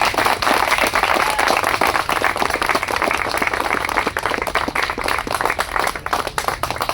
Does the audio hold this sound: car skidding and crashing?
no